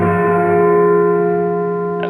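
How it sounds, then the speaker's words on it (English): Clock chimes ringing the hour: a loud, sustained bell tone with rich, lingering overtones that hold steady and ring out alone for about two seconds. "The chimes were ringing the 11:75 at that moment."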